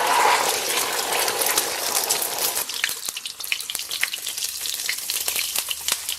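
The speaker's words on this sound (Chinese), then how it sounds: "咱们把鸡蛋下到锅中" Eggs frying in hot oil in a wok, with a loud initial sizzle that settles into scattered crackles and pops, close up with no talk.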